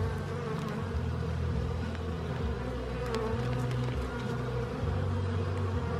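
Honey bees buzz steadily around a beehive box, a dense, continuous hum of many wings close by with no speech over it.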